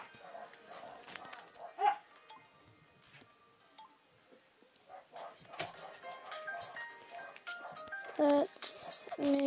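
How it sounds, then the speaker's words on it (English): Dogs bark and whimper in the background, faint scattered yips and whines with a few clearer barks rising near the end, under a quiet indoor setting. "it's just my dogs are going cray cray."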